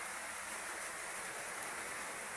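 Steady continuous rain on a gloomy, overcast Thursday, a constant soft hiss with no pauses, heard alone and at a low level.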